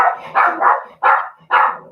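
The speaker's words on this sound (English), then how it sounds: "Do you want to mute until the dogs get a little quiet?" Dogs bark in a series of five sharp, loud barks in quick succession, close by and with no talking over them.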